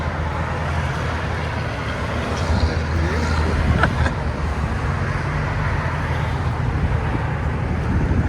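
A supercharged Mercedes CL 55 AMG with a fully straight-piped exhaust rumbles steadily with a deep, loud, raw drone that holds a constant low throb throughout.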